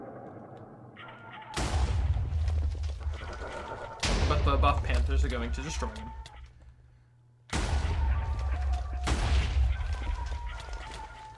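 Hercules Beetle mob in Minecraft 1.16.5 battling a buff Panther, giving loud booming, thudding bursts in several separate blasts with a voice commenting over them.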